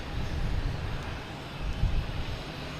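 Delta Embraer E170 jet at Boston Logan Airport, a steady broadband engine roar with low rumble and some wind buffeting, fairly distant and continuous throughout.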